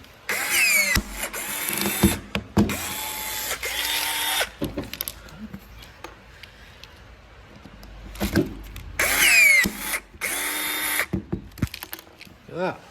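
A rivet tool squeezing rivets into a repaired tractor part on a Massey 1200, heard as loud bursts of mechanical whirring and grinding. The bursts come in two clusters separated by a quieter stretch with some talk.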